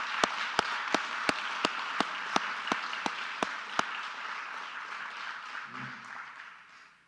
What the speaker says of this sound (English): So let's have a huge applause for these brave men and women.